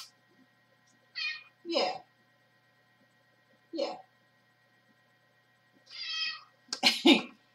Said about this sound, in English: he's actually a very loud cat. He's very, very vocal.